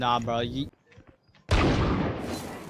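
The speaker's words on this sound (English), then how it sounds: "I hear two gunshots over there" Gunfire in the Valorant video game: a loud burst of shots erupts after a short talk, with a sharp onset and sustained crackling decay, following a man's brief spoken remark.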